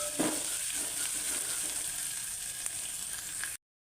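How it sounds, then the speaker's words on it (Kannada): Chopped coriander frying in a little oil while being stirred, a steady close sizzle with occasional scrapes and taps of the spoon, cutting off abruptly at the end. "ಕೊತ್ತಂಬರಿ ಹಾಕೊಳ್ಳುವ ಕಟ್ ಮಾಡಿಟ್ಟಿದ್ದು ಸ್ವಲ್ಪ ಎಣ್ಣೆಯಲ್ಲಿ ಚೆನ್ನಾಗಿ ಬಾಡಿಸ್ಕೊಳ್ಳುವ"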